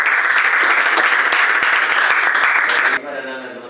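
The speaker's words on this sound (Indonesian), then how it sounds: "Kita tepuk tangan buat kelompok 2." Classroom applause from students for a presenting group, dense steady clapping for about three seconds, then cutting off sharply into quieter room sound.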